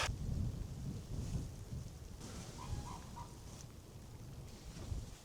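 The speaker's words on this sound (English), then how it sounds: "it's so windy and it's raining. Like drizzling, pouring inside here." Gusty wind rumbles with a steady hiss of rain at a swamp in Finland, and a few faint honking bird calls sound in the distance.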